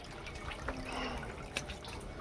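Water sloshes and drips while buckets of clothes are washed and left soaking, with soft continuous trickling and splashing plus a couple of sharper splashes near the end, close by and quiet.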